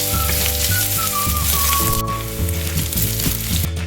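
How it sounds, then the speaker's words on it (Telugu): Dried chilies, cumin, mustard seeds, curry leaves and crushed garlic fry in hot oil for a bitter gourd stir-fry, giving a steady, close crackling sizzle that runs the whole time under continuous background music. "దంచుకొని పెట్టుకున్న గార్లిక్ని వేసుకొని వీటన్నింటినీ ఫ్రై చేసుకోవాలి"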